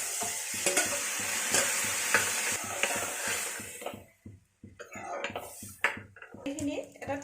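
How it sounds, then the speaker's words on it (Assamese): Boiled dal with turmeric being stirred in a pan, a steady run of scraping strokes over a sizzling base that breaks into sharper, irregular scrapes near the end, close and fairly loud with no talking. "মই এতিয়া সিজাই থোৱা দালিখিনি দি দিম।"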